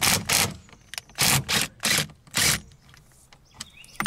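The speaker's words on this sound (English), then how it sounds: "We're using a small impact with a 24 millimeter socket" A small impact wrench with a 24 mm socket loosens the steering wheel bolt on a 2016 Mustang GT, hammering in four or five sharp, loud, close bursts with brief quiet gaps between them.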